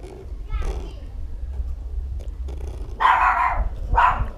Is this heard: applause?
no